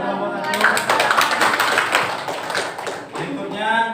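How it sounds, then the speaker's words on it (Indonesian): A class of students applauds for group 1 at the close of its presentation during a teaching practice session, a dense, steady burst of many hands clapping near and loud for about four seconds, with some voices mixed in. "Kasih tepuk tangan untuk kelompok 1."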